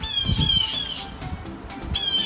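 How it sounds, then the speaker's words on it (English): Several birds squawk and screech in short, harsh bursts nearby, overlapping calls rising and falling as if quarreling. "There's like 4 birds fighting in that tree right there, and they're being super loud"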